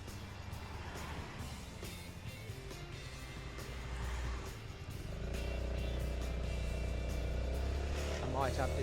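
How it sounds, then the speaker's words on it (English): A Honda Forza 350 scooter is ridden at motorway speed, its steady engine drone mixed with loud rushing wind and road roar that grows heavier and more constant partway through. "It's the Honda Forza 350, so it's got a little bit of poke, enough to go at normal motorway driving"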